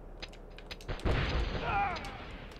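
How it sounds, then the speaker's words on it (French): A grenade goes off in the Die Hard Trilogy video game, a sudden loud burst that rumbles and decays over a second or so, with scattered game effects and a faint tone after it. "j'ai balancé une grenade"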